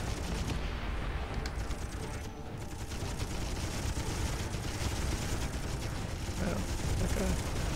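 Continuous gunfire in the space combat game Miner Wars 2081: a steady, dense barrage of rapid shots and impacts that stays at an even loudness throughout.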